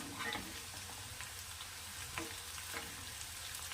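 Chopped onions frying in a pan until brown, a steady low sizzle with a few soft stirring scrapes, fairly quiet throughout with no voices.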